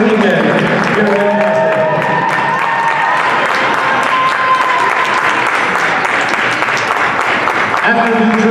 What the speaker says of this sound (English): Let's give both teams a great round of applause